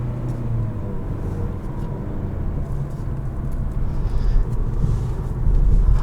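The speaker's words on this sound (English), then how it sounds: "you engage the kick down mode, it will downshift for you." From inside a 2020 Mazda 6, the engine drones low as the automatic transmission kicks down to accelerate, a steady rumble that builds and grows louder toward the end.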